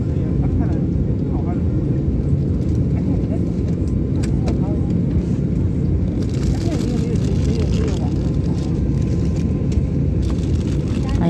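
An airport baggage vehicle hauling checked luggage out to an airplane, its engine a steady, loud, close rumble that continues throughout, with a person talking over it.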